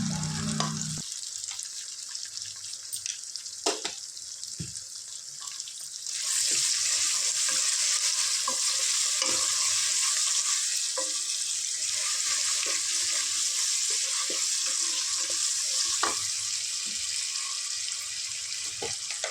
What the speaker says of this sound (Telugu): వీటిని చక్కగా ఫ్రై చేసుకుందాం